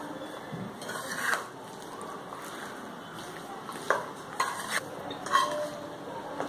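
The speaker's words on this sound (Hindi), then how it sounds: "इसे थोड़ा प्रेस करके मिक्स करेंगे जिससे कि मसाला अंदर तक चला जाए।" A spoon presses and stirs jackfruit and mango pieces through spice masala for pickle, giving soft, faint scraping and clinks against the bowl in irregular strokes, with no voices.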